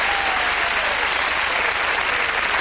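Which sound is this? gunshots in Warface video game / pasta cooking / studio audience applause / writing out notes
studio audience applause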